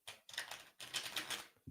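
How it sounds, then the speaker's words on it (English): A deck of playing cards being shuffled up close, two bursts of rapid riffling clatter separated by a brief pause, crisp and dry. "I'm shuffling up the deck."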